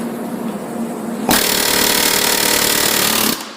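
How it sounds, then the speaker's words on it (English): A bolt being hammered on a 2010 Jeep Patriot/Compass rear wheel bearing assembly, a loud, dense burst of rapid metallic hammering lasting about two seconds before it stops abruptly. "We're going to try and hammer on this bolt now."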